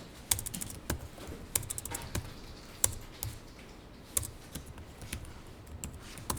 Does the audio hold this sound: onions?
no